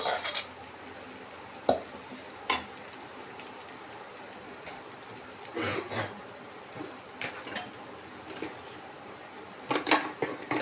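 Poha being stirred and mixed in a pan, quiet and close, with repeated metallic scrapes and clinks of a spoon against the pan over a faint background hiss.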